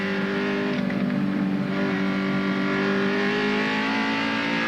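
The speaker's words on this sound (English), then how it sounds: "Those V8 still sound good, don't they?" A 1980s Holden Commodore V8 race car heard from the onboard camera at Amaroo, a steady loud engine drone holding high revs throughout, close and continuous with no talk.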